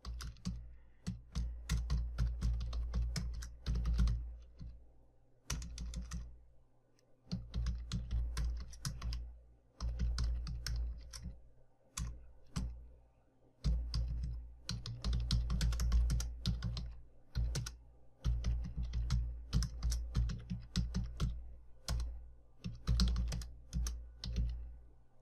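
Someone types a database query for a PHP inventory admin page on a computer keyboard: close, rapid bursts of key clicks with short pauses between runs, sounding alone.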